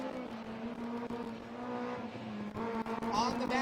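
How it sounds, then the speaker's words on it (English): A Honda S2000 fitted with an ASM K24 engine accelerates hard on a race track, its engine tone droning steadily then rising near the end, with a voice speaking over it. "The car accelerating hard."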